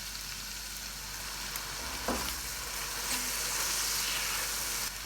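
Onions frying in oil for mutton yakhni pulao, a dense, steady hiss of sizzling close up with a faint clink of a utensil partway through.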